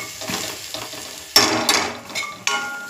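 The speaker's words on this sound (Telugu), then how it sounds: "కొంచెం అల్లం వేయాలి. ఇది కొంచెం వేగనివ్వాలి." Ginger frying in a pan for dhaba-style egg masala curry, giving a soft continuous sizzle broken by a few sharp scraping stirs of a utensil against the pan, close up with no voices.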